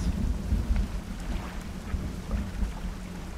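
A thunderstorm rolls through the fishing game DREDGE with deep, rumbling thunder over a dense wash of steady rain. The sound stays loud and continuous throughout, with no voices.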